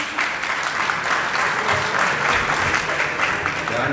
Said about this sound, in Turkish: Bir alkışlayın da kendimize gelelim yani.